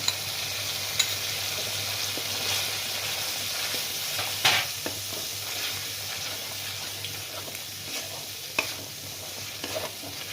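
Spiced masala frying in a pan as cashew and poppy seed paste goes in for a pointed gourd korma, a steady low sizzle with occasional spoon scrapes and clinks, no voices.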